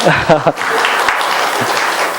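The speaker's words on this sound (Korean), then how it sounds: "박수까지 해주실 것은 제가 설교 원고를 쓰면서 예상을 못했습니다" A church congregation claps together in a steady burst of applause during a Wednesday service, with a voice speaking briefly at the start.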